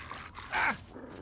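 A dog in the video game Fallout 3 lets out a single short, gruff growl or bark, close and moderately loud, in a brief burst over a low ambient background.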